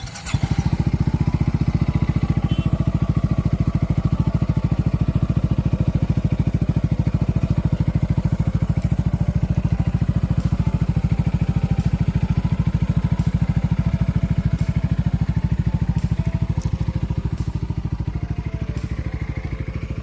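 A Yamaha XMAX motorcycle with an aftermarket WRX exhaust idles steadily and loudly for the whole stretch, a throaty continuous rumble with a slight rattle and no talking.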